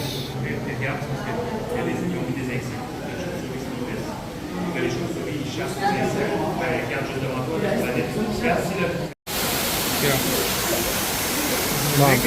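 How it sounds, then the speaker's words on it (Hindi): A waterfall inside the Montreal Biodome gives off a steady, full rushing roar, while people talk over it throughout. "झरना"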